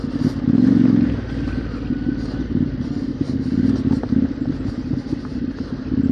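A dirt bike ridden hard on a trail around Uwharrie, its engine a steady loud drone with a louder surge near the start, with clatter and scraping from the rough ground throughout and no talk.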